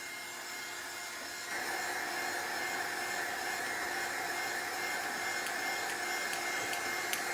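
A heat tool blows over a mixed-media canvas decorated with scrapbooking supplies to dry it. A low hum switches to a louder, steady whirring roar about a second and a half in and continues unbroken.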